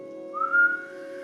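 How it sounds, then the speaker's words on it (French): Air is drawn in through finely rounded lips during yoga pranayama breathing, making a close, soft breathy whistle that rises into a clear tone, peaks briefly, then eases off. "On va inspirer en faisant le rond avec les lèvres suffisamment fin pour sentir que quand on va inspirer, ça va émettre une forme de sifflement."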